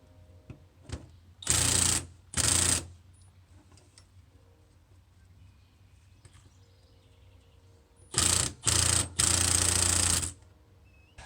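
A ratchet wrench works a bolt off the power steering pump of an 80 Series Land Cruiser in two pairs of quick, loud clicking bursts, separated by several seconds of quiet shop background.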